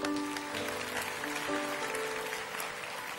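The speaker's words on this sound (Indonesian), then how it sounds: "beri tepuk tangan untuk Tuhan Yesus" A church congregation bursts into steady, full applause filling the room for a few seconds, with faint musical tones sounding underneath.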